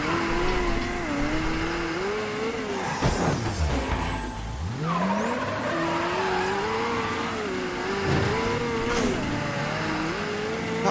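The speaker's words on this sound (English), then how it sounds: "Car sounds like it's struggling." A car engine in the video game Mafia 3 drones and wavers unevenly, its pitch dipping and recovering as if straining, with a thin high whine over the steady roar.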